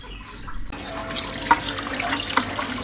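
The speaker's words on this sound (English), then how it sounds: "Look at you doing vacation dishes." Tap water runs into a sink while dishes are washed on a holiday stay on Gili Air, a steady splashing stream with a couple of clinks, no talking.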